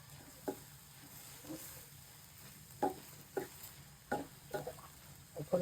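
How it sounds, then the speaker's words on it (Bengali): Chepa dried puti fish frying in a pan with green chilli, garlic and onion, giving a low steady sizzle broken by several sharp scraping stirs and clinks, close by with no talk. "এখন আস্তে আস্তে ভাজা ভাজা হোক।"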